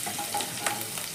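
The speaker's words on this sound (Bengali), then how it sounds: "আদা কুচিটা দিলাম।" Chopped ginger frying in a pan for homemade chowmein, a close steady sizzle broken by brief scraping stirs.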